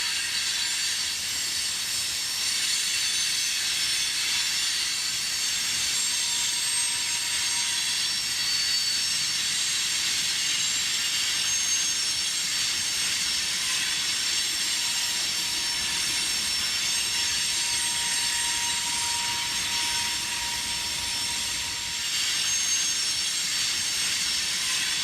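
A CSX train crosses the Licking River railroad bridge between Covington and Newport, a steady distant rumble and hiss of rolling freight cars with faint high wheel squeal, heard alone.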